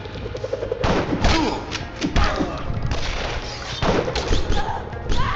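Shotgun blasts and explosions in the action game Huntdown, a dense run of loud booming impacts and crashes layered over continuous game music and effects across the clip.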